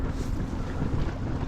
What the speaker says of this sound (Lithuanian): vėjas šiandieną apie 12 metrų šiaurės